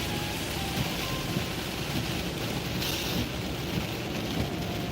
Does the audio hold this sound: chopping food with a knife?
no